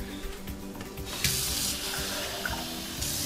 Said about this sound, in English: probably add a little water to it.